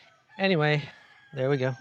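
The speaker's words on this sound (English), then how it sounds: "so sorry if you hear barking and roosters and so on." A rooster crows twice in quick succession, fairly close and clear, with a person speaking briefly alongside.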